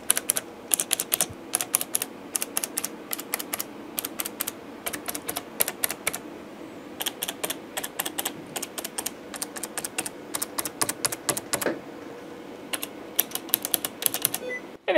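Rapid clicky typing on a Razer Ornata V2 hybrid keyboard, bursts of keystrokes with short pauses, close up and alone.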